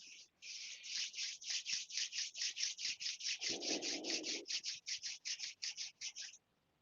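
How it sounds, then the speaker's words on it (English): Palms rub gently back and forth in a steady, even rhythm, about thirty soft swishing strokes at close range, with a brief low rustle partway through and no speech. "Gently rubbing the palms together."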